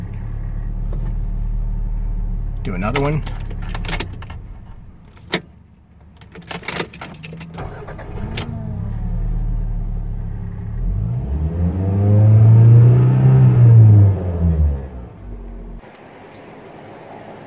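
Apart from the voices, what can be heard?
1993 Toyota MR2 engine hot starts and revving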